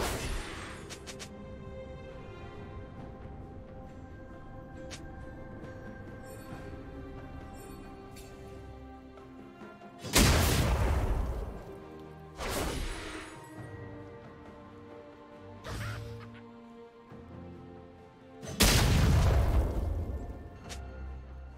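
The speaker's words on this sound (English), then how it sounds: "Blue team's turret has been destroyed." Heavy crashing blasts of a turret being destroyed in League of Legends, three loud booming impacts spaced several seconds apart over a quieter game background.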